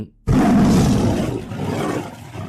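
A tiger lets out one loud, close roar that rises suddenly after a brief silence, then rumbles and slowly fades over about two seconds, with no other sounds around it.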